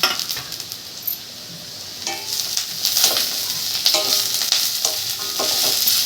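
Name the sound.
frying onion, ginger and garlic in a pan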